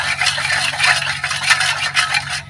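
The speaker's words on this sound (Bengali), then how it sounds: "এবার খুব ভালো করে মিশিয়ে নেব।" A spoon stirs yeast, sugar and liquid together in a bowl, giving a steady, close scraping and swishing that runs continuously without pauses.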